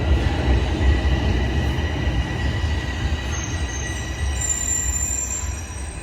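A TTC subway train rolls through Highway 407 Station with a continuous loud rumble of wheels on rail, and a thin high wheel squeal creeps in over the second half.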